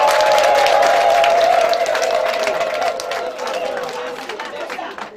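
A crowd at a community health centre event applauds the centre head and staff, steady clapping with chatter and a sustained tone that gradually thins over a few seconds.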